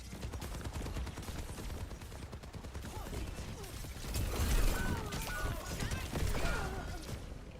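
Rapid video-game gunfire, dense continuous shooting mixed with clanks and impacts, fairly loud throughout, with a voice speaking over it.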